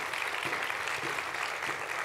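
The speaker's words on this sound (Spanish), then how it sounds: "Les damos un aplauso, ¿sí? Los bendecimos." A congregation applauds during a church service, a steady wash of many hands clapping together, dense and continuous at moderate volume.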